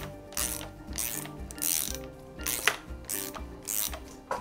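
A ratchet tool turns and tightens a screw on a motorcycle kit, giving repeated close bursts of rapid clicking in an even rhythm, each stroke followed by a short pause as the handle is reset.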